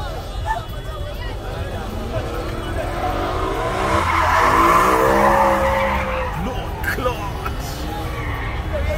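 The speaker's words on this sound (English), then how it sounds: "That is burning it up in the BMW. He's burning up the road." A BMW doing donuts around a roundabout in Uganda, its tires squealing in a long, loud skid that swells through the middle, with engine noise and excited voices nearby talking and shouting.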